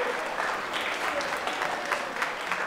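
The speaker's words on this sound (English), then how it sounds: "Give yourselves a hand round of applause for that." Students give a sustained round of applause, a thick, even roar of many clapping hands throughout with no talking.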